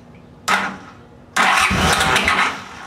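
A Honda CX500 motorcycle engine started without choke: a brief first cranking burst, a pause, then it catches and runs loudly for over a second before easing off.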